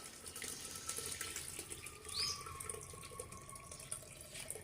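Soaked sorghum grits and water are poured through a strainer into a pot, giving a faint, continuous trickle and splash of running liquid with a brief brighter splash midway and no voices.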